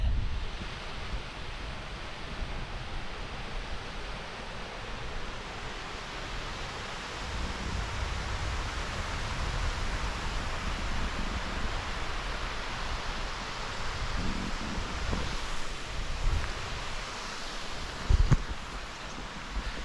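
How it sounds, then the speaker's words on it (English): Steady rushing water flows continuously, like a mountain stream on Scafell Pike heard up close, with a broad even hiss and no talking. "Can even hear some running water."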